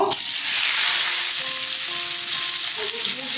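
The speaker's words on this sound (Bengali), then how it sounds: "তেল গরম হয়ে গেছে, এবার আলুগুলো ভেজে নেব।" Potatoes fry in hot oil with a steady, loud, close sizzle, broken by scraping stirs near the end; no one speaks.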